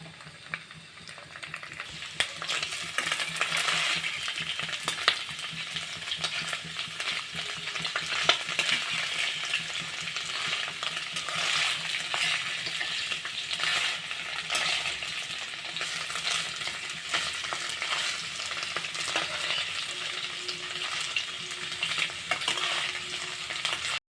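Paneer pieces fry in hot oil in a pan while being stirred, giving a steady close sizzle with crackling spatter and faint scrapes throughout, no voices.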